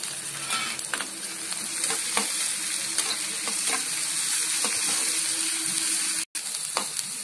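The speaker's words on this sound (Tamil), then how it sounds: "வெங்காயம் வதக்கிறதுக்கு பச்சை மிளகாய் சேர்த்துக்கலாம்" Onion and green chili sautéing in a pan, a steady loud sizzle that runs almost without a break, with occasional stirring scrapes and a brief dropout near the end.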